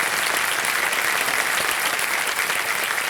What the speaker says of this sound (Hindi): एक बार तालियां बज जाए